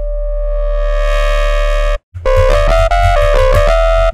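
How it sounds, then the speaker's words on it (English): A buzzing, harmonically rich sine wave synth tone holds steady, breaks briefly, then returns distorted as a gritty dubstep bass line playing short rhythmic notes. "And then when we go to the effects and we just distort it"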